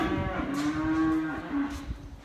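Cows on a farm low in one long, drawn-out moo, close by, with a second shorter moo following and faint barn noise underneath.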